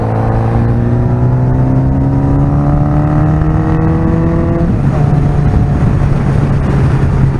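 A motorcycle with a 1200 motor rides at a steady, loud engine drone, its pitch rising gradually as it speeds up, then shifting and settling, with constant wind and road noise and no talk.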